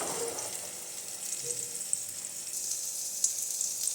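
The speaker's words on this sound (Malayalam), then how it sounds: "അങ്ങനെ ഓരോ ബ്രിഞ്ചാളുമായിട്ട് ഫ്രൈ ചെയ്യാൻ വേണ്ടി എണ്ണയിലേക്ക് ഇടുക." Brinjal slices fry in oil for a Kerala-style brinjal fry, giving a steady bright sizzle with occasional small pops, close and fairly quiet.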